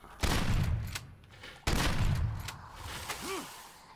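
Shotgun blasts in the survival horror game Daymare 1998, two heavy booming shots about a second and a half apart, each with a long fading tail, followed by softer impacts and a brief creature-like warble.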